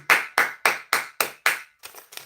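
One person claps for a child in six sharp, evenly spaced claps, then two softer ones, close and clear with no talking.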